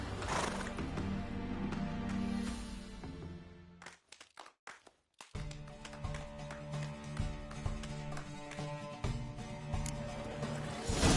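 Horses galloping in a race in the video game Witcher 3, with hoofbeats and whinnies over a loud busy game soundtrack that briefly drops out midway before the racing din resumes.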